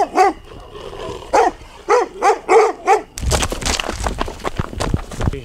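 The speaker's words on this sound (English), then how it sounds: "When they're just next to us and they start barking." Dogs barking in a rural farm area during a long walk: a run of about seven loud, evenly spaced barks nearby, then a busier, noisier stretch of movement and rustling.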